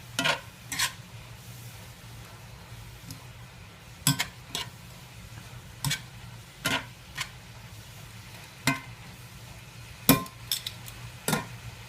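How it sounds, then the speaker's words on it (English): Chicken with Italian seasoning is stirred in a pan, giving sharp, irregular clinks and taps of a utensil against the pan over a faint sizzle. The sound is quiet and close, with no talk. "And just stir to coat."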